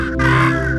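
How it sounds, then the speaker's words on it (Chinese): A crow in the video game Monument Valley caws once, a loud, harsh, sustained call standing alone close up. "走开了，臭乌鸦。"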